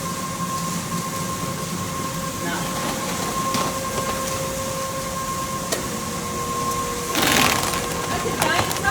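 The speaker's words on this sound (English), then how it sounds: "The giant sewing machine" A giant industrial sewing machine in a feed mill hums and rattles steadily, with a brief louder mechanical burst near the end; people talk nearby.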